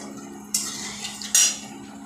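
A spatula scrapes and knocks against a pan while whole cumin and bay leaves are stirred, making two sharp metallic clinks over a low background hum.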